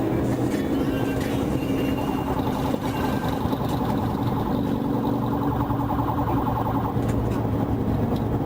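A Florida Highway Patrol vehicle's siren wails loud and continuous with shifting tones, layered over engine and road noise throughout.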